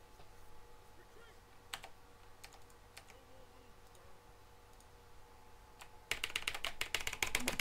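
Computer keyboard typing, scattered single clicks at first, then a fast, loud burst of rapid keystrokes near the end, close up in a quiet room.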